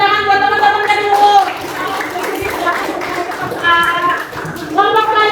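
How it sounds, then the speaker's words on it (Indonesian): Pupils in a classroom clap for classmates who have just presented, a busy patter of small hands mixed with children's chatter and sung, voice-like tones rising and falling throughout. "tepuk tangan buat teman-teman tadi dulu"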